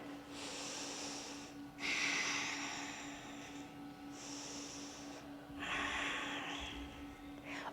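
Deep breaths taken during a workout exercise, alternating long airy inhales and exhales in slow rhythm, close and fairly quiet over a faint steady hum, with no talking.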